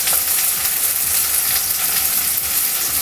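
Onions with ginger garlic paste frying loudly in a pan for a paneer masala dish, producing a dense, steady sizzle and crackle throughout, close and unbroken, with no voices.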